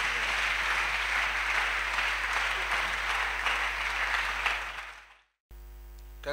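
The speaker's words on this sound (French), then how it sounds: "Clap offering to Jesus." A church congregation claps together in a dense, continuous burst over a low steady hum, the applause fading out after about five seconds before a brief tonal sound.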